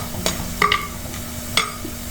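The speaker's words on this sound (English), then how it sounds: "So we fry them till golden brown." Jackfruit seeds fry until golden brown in a pan with a soft, steady sizzle, punctuated by a few sharp spoon clinks as they are stirred.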